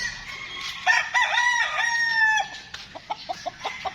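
Super brown red gamecock roosters crow loudly and close by, a long drawn-out call followed by a string of short, clipped clucks.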